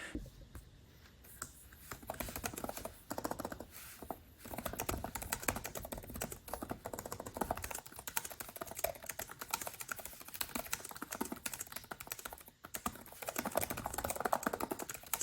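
Rapid, continuous clicking of Lenovo Legion Slim 7 laptop keys being typed on, close and steady with a brief pause near the start and another late on.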